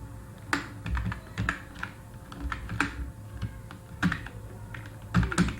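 Computer keyboard typing in bursts of clicky keystrokes during HTML coding, fairly close and steady, with short pauses between runs and no talk.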